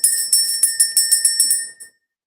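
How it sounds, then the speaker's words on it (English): A small hand bell is shaken in a rapid run of about ten bright, ringing strikes, close and loud, then quickly fades to silence. "We're just going to go ahead and ring the bell."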